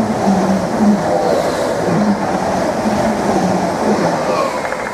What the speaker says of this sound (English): 745-008 has raced past at speed en route to London Liverpool Street.